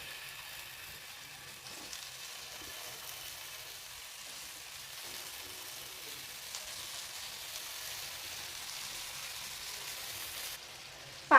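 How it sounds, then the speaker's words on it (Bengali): Pumpkin pieces fry in hot oil already used for frying prawns, cooked for a mashed sweet-pumpkin dish; a steady, even sizzle hisses throughout with no talk, ending in a brief clunk. "এই তেলেই আমি কুমড়োটাও ভেজে নেব।"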